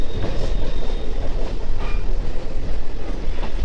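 A red passenger train on the India–Bangladesh border line toward Radhikapur rumbles loudly and close by. Wheels clatter and rattle continuously, with faint squeals, and there is no speech.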